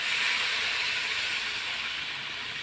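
Water poured into hot oil in a pan for a Bengali rohu fish curry sets off a steady, broad sizzling hiss that fades slightly over a few seconds, close and without voices.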